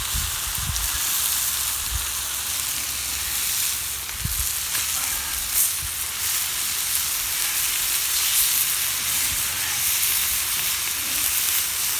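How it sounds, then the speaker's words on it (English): Steady, loud sizzling of chicken fajita meat frying in a hot pan, a continuous crackling hiss with a few faint low knocks, no voices. "Here you can hear the sizzling as I'm cooking it, and getting the chicken cooked thoroughly."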